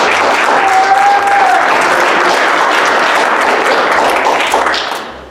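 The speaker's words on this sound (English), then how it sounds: "one last final applause for our final 3 before we vote" Loud, sustained audience applause at a season finale of a competition show honoring the final three contestants, a dense continuous roar of clapping that holds steady and then fades at the close.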